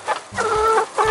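Chickens cluck in a short run of several rising, throaty calls on a village farmyard, close and fairly loud with no talk over them.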